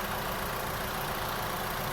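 An Alfa Romeo 159 with a 2.2 JTS petrol engine, freshly walnut blasted, idling smoothly in a continuous, even hum with broad noise and no stumbles or revving.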